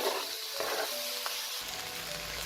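Dalia khichuri is stirred and fried in a pan, producing a continuous bright sizzle close by, with no voices.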